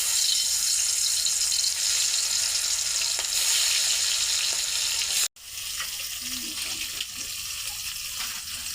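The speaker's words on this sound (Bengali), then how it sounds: "আমি মাছগুলো ভেজে নিব।" Taki fish frying in hot oil give a loud, continuous, hissing sizzle, briefly cut off by a sudden pause, then resuming with faint stirring and bubbling; close by, with no talking.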